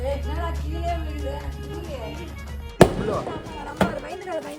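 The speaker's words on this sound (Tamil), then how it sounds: "ஓகே பக்கத்துலயே வெடிக்குதுடா." Firecrackers set off during a Karthigai Deepam festival celebration burst nearby with two sharp, loud bangs about a second apart. People talk excitedly before and between the blasts.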